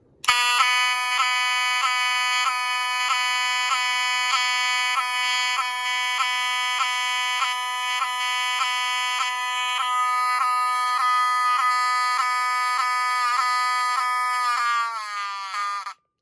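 A Pyrotronics HSD-24 fire alarm sounds alone, a loud, harsh electronic tone pulsing in rapid, even beats for about fifteen seconds before cutting off abruptly.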